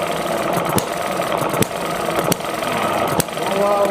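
A small ET6 engine runs at a lean, low idle with its fuel setting nearly closed, giving a steady mechanical chugging with periodic sharp knocks about every second, loud and close throughout.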